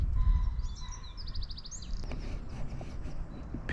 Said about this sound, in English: Picked up the wren straight away.